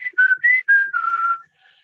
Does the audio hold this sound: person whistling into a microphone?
yes